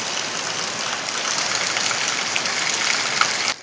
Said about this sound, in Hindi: देखो अभी कितनी ज़ोर की पड़ी हुई है बारिश।